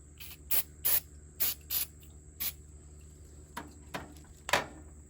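Quick-evaporating cleaner sprayed onto a nut during front brake, wheel bearing and shock work on a 1971 Chevy C10, heard as a series of short, sharp spray bursts, close and alone against a quiet background.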